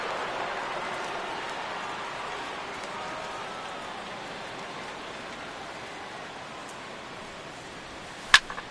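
Steady rain falls in the baseball video game MLB The Show 16, a constant close hiss of drops that holds evenly throughout and ends with a sudden sharp crack.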